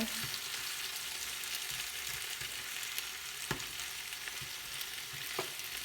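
Young pumpkin stir-fries in oil, western style, with a soft steady sizzle and occasional light clicks of stirring utensils against the pan.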